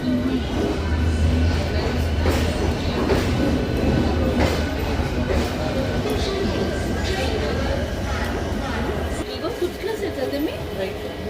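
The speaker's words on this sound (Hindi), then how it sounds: "ट्रेन के साथ चल रहे हैं हम" A passenger train rolls along with a continuous rumble and rattling carriage noise from on board, while people talk nearby throughout.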